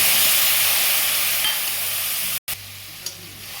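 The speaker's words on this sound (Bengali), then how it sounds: "ভালো করে কষিয়ে নেব মশলাটাকে।" Spice paste with black cumin and green chilies fries steadily in a pan for hilish curry, a continuous close sizzle with stirring scrapes, broken by a brief silent gap before the frying resumes.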